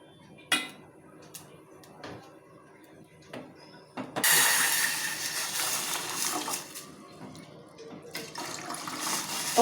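Water poured from a glass into a bowl while making carrot semiya payasam, a bright rushing pour starting midway and running several seconds, with earlier small clinks of utensils and dishes nearby.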